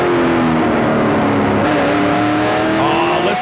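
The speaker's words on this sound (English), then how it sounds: "Listen to that Dodge horsepower." A Dodge stock car engine roars loudly during a race, with rising revs and overlapping engines from other cars on the track, sounding close and continuous.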